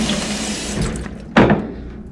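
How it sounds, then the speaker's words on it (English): Water rushing from an eco-friendly hotel refill station into a bottle, a steady close stream that surges louder after a button press, then continues filling. "You just press the button for water and it refills your bottle."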